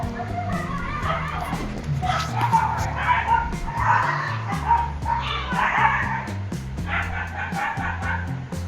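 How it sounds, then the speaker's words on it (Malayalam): A dog barks and yips repeatedly at a distance, muffled as if from outdoors, with a steady low hum underneath. "വീടിൻ്റെ വെളിയിലുള്ള പട്ടിയുടെ കിടന്ന് കുരയ്ക്കുന്നതാണ്"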